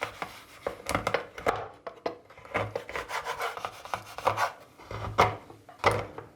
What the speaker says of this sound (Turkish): 50 gram sütlü çikolatayı doğrayacağım